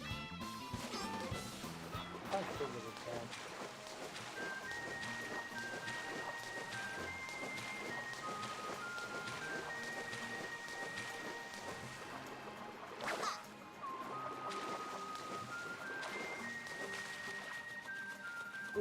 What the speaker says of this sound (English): I can't believe how much rain.